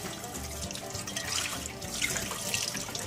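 Tap water runs steadily into a cast iron pan being rinsed in a sink, a soft continuous splashing hiss with light spattering throughout.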